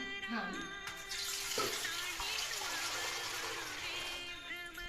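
Water splashes and pours steadily into a pot for boiling, the tone shifting as it fills, close and continuous for several seconds.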